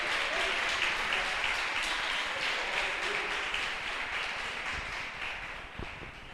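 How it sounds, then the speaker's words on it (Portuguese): Church congregation applauding, a steady wash of many hands clapping at moderate distance, fading slightly toward the end with no voices. "Você pode aplaudir o nome do Senhor?"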